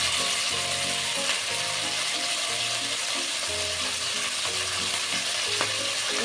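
Onion frying in hot oil for a chilli soya bean recipe, a steady close sizzle and crackle lasting throughout, with faint tonal sounds underneath.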